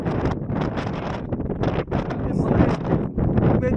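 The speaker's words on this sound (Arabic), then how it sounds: "بدا الريح" Steady wind buffets the microphone with rough, continuous rumbling and rustle, loud and close throughout, at Dingli Cliffs.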